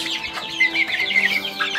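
Crossbred village chickens cluck and chatter close by in a short burst of several overlapping calls, with no speech.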